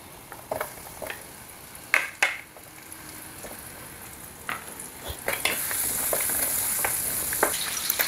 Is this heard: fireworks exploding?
no